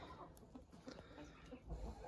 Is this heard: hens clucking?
yes